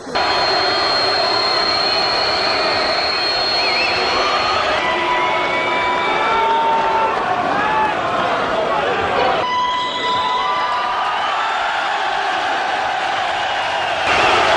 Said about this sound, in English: A Wembley crowd.